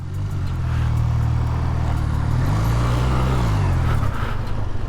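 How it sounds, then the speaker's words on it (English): A Honda CB250 twin motorcycle engine idles on choke while warming up, a loud, steady low rumble with a slight rise and fall in pitch partway through. "let her warm up and then I'll turn off the choke halfway through here"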